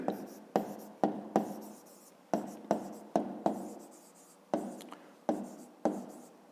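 Pen writing on paper while working a fifth-grade maths exercise: a dozen sharp, evenly spaced strokes that each fade quickly, close and moderately loud with no talk over them.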